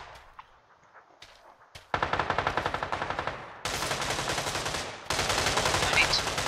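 Rapid automatic gunfire from the video game PUBG Lite, loud dense bursts of repeated shots that grow fuller and more continuous in three stages after a quieter opening with scattered clicks.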